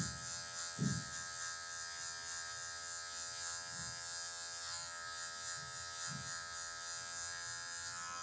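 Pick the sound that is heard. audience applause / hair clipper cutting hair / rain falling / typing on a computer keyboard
hair clipper cutting hair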